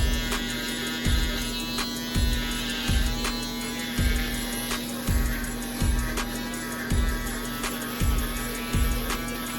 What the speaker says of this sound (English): next we're gonna use the Babyless Pro box shaver to ball out the bottom